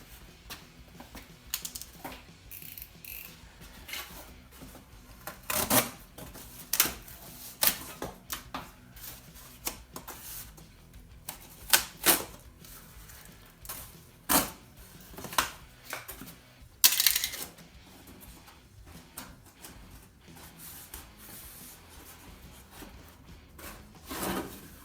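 Scissors snip and rustle through a chunk of cardboard shaped as a template for a 1990 Dodge Ram wheel arch, giving irregular sharp cuts and scrapes at close range with quiet gaps between.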